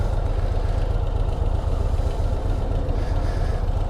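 A 2025 Harley-Davidson Low Rider ST engine runs steadily with a quiet exhaust, giving an even, close, low rumble throughout with no talking.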